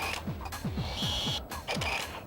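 A digital camera records an image internally with a built-in computer, giving soft mechanical whirs and creaks: a series of short repeated sweeping tones, close and fairly quiet, with a brief higher electronic whine in the middle.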